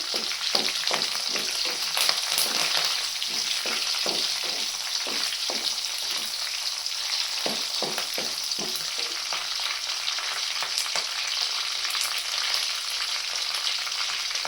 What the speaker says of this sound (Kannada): ಸ್ವಲ್ಪ ಕರಿಬೇವು, ಸ್ವಲ್ಪ ಲೈಟಾಗಿ ಫ್ರೈ ಆಗಲಿ.